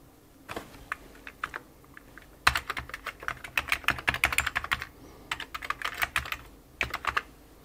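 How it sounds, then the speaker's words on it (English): Keys clatter on a repaired Amiga A600 keyboard: irregular bursts of sharp, close clicks, some isolated and some in quick runs, with no talking. "I am pleased to report that the keyboard now does seem to work."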